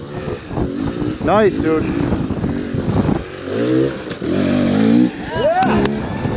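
An off-road vehicle crawls up rocks at Hells Gate in Moab, its engine revving and surging in uneven bursts close by, while people talk and cheer over it.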